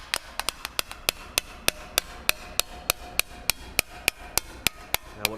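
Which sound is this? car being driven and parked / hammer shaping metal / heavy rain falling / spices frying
hammer shaping metal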